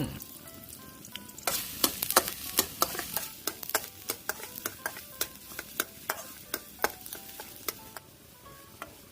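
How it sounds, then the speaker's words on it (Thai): Oil sizzles steadily as garlic stir-fries while a spatula scrapes and clacks against a wok in a quick, regular rhythm, close and fairly loud. "นำกระเทียมลงผัดให้เหลืองหอมกันเลยครับเพื่อน"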